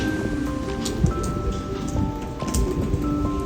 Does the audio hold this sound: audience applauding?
no